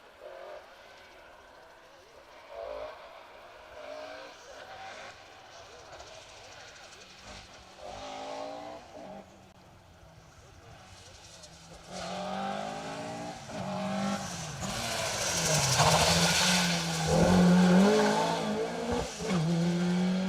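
A Mark II rally car runs an asphalt rally stage, its engine note rising and falling as it approaches and passes, with tyre noise growing louder toward the end while commentators talk over it.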